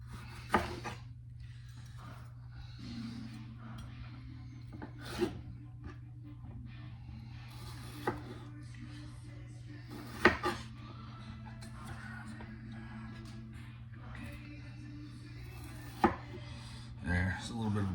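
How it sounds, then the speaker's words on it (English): Bell peppers being chopped with a knife on a cutting board for chili, giving sparse, irregular sharp taps spaced a few seconds apart over a steady low hum, close and fairly faint. "It's a little bit of a process to clean these up to get them, chopping them up."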